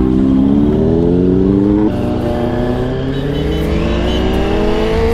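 A superbike fitted with a fully changed aftermarket exhaust idles and revs loudly and steadily up close, its engine tone rising and falling in continuous drones with no talk over it.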